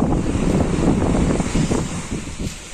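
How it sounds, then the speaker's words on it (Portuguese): Loud seaside wind buffets the microphone in a steady roar at Laginha beach, with surf noise mixed in and no voices. "Um pouquinho de vento."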